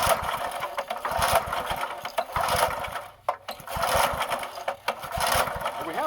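Repeated pull-starting of a 1990 Task Force 5hp rototiller: rapid mechanical ratcheting rattle in bursts, a short pause between yanks, the engine never catching, close and fairly loud.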